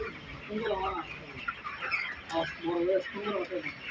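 29-day-old chickens cluck and chatter close by in short, repeated calls, with some background voices mixed in.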